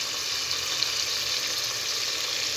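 Asafoetida sizzles as it fries in a kadhi spice mix for Punjabi-style kadhi pakora, giving a steady, close, even crackling hiss with no talk.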